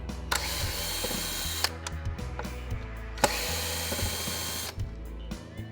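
A drill fitted with a Phillips bit backs screws out while a motor controller is replaced on an MGI Navigator Quad golf trolley, giving two long, loud ratcheting whirs with clicks and knocks between them, near and without talk.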